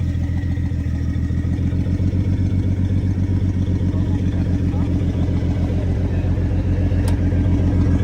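A car engine hums steadily from inside the cabin while driving, a constant low rumble with rhythmic clatter and no pauses.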